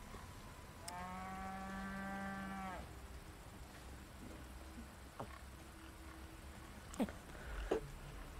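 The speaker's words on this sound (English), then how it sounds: "Looks like a possessed cow, still moving after death." A possessed cow in Resident Evil 4 Remake gives a single drawn-out moo lasting about two seconds, moderately close against a quiet ambient background, followed later by a few faint clicks and thuds.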